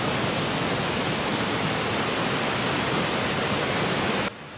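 A constant, loud rush of water pours down at Padekap waterfall near Chinder, Kankavli, in the Konkan. The dense hiss is unbroken and cuts off abruptly near the end.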